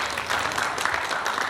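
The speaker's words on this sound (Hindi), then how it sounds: "तो एक बार इन चारों कपल्स के लिए जोरदार ताली होनी चाहिए प्लीज" Applause from the guests at a 50th wedding anniversary party, honouring four couples: a dense, steady patter of many hands clapping together, lively and fairly loud throughout.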